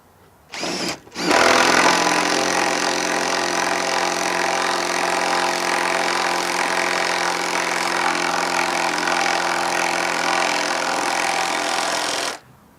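A power drill driving lag screws whirs loudly and steadily for about eleven seconds after a brief short burst, close by, with no talking.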